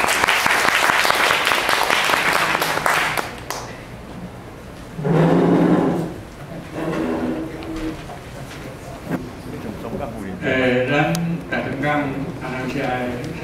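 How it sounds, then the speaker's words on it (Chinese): At a Rotary Club meeting, the audience gives the district governor brisk applause for a few seconds before it fades, after which people speak. "请大家掌声鼓励"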